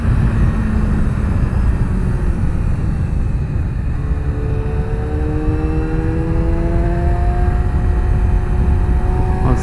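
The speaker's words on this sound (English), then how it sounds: "What a fun machine. What a joy. This buttery smooth 4-cylinder engine," 2017 Yamaha R6 four-cylinder motorcycle engine, a loud steady drone with rising, climbing engine tones that build through the second half, heard from close by.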